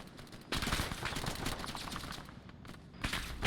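Sustained automatic gunfire in a multiplayer shooter game, a magazine emptied at an enemy helicopter, with a dense rapid stream of loud shots running almost continuously and a fresh burst near the end.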